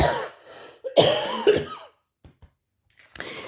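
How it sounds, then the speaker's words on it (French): Several harsh coughs up close, a throat-clearing burst at the start, then quieter small breaths and faint sounds. "je suis vraiment désolée pour cette toux"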